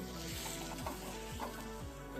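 Dried seafood sautéing in a pan sizzles steadily while a utensil scrapes and stirs in a regular rhythm, about four strokes in quick succession.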